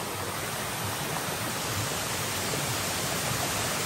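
Unbroken roar of falling water at the first, smaller Khaiyachhara waterfall, a dense, even hiss heard up close and slightly louder, with no one speaking.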